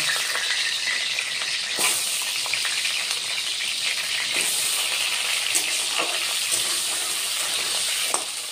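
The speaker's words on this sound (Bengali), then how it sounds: "আলুটা এখন ভেজে নেব" Washed potatoes fry in hot oil in a home kitchen, giving a loud, continuous close sizzle with occasional stirring scrapes and clinks throughout.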